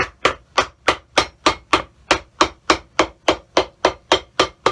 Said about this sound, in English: the noise of the hammers